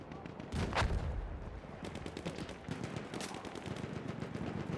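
Battlefield 1 battle on the Passchendaele map with rapid bursts of rifle and machine-gun fire, a heavy blast early on, continuous faint crackling shots throughout.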